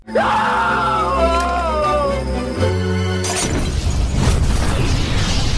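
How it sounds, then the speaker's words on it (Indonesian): A wavering, wailing tone gives way to a sudden loud blast as a factory explodes, followed by a broad, rumbling roar of debris. "Taisik pun pergi dan pabrik itu meledak bersama Jong Suk yang terpasung"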